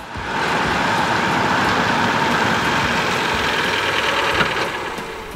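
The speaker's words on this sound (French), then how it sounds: "Le moteur essence de 120 chevaux est très agréable" A Fiat Tipo five-door's 120-horsepower petrol engine runs steadily and close, a constant hum with a faint rattling texture throughout.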